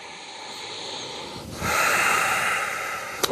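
Breathing during a yoga standing posture, a close, loud, long inhale-exhale hiss with a sharp snort-like catch near the end.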